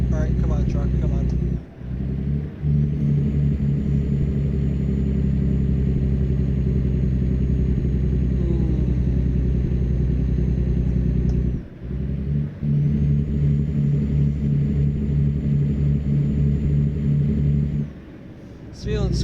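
A truck engine in American Truck Simulator drones steadily under load, a low, even, mid-loud hum with brief dips and surges as the driver shifts or eases off.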